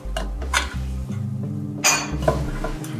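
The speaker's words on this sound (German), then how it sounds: "Schaut mal hier, ein richtig schönes Geschirrset." Porcelain dishes from a dinnerware set clink and knock against each other as they are handled, a close series of sharp ceramic clatters with no talking.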